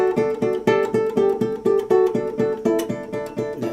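A guitar chord rings out again and again, all its notes hybrid-picked at the same instant in a keyboard-like way, in a steady, even rhythm of bright, sustained strums.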